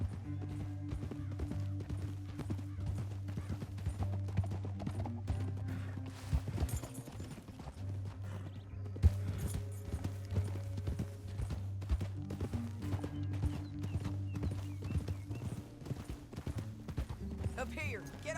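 Horse hooves clip-clop steadily through a Red Dead Redemption 2 canyon ride, a continuous rhythmic trot heard under game music and spoken dialogue for most of the stretch.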